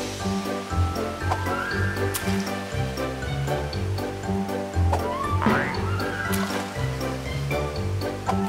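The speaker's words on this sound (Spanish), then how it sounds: "¿puedes hacer un chorro de agua genial en forma de anillo?" Cartoon water jet splashing and gushing continuously in a playful animated scene, mixed with bright musical tones and occasional whooshing sparkles, steady and fairly loud throughout without speech.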